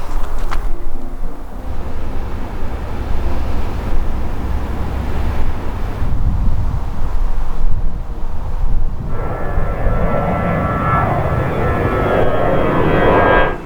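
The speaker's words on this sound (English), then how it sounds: "now I'm thinking might be because of the planes" Aircraft pass over a campground near the Rhine in Germany, a steady broad roar of engines and wind that swells and holds loud throughout, with a brighter whine rising toward the end.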